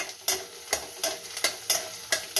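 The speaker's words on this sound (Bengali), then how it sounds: "একটুখানি ভাজা হয়ে যাক," Green chili paste with garlic and coriander fries in a pan with a soft sizzle while a utensil stirs and scrapes in about six sharp strokes, close and clear with no talking.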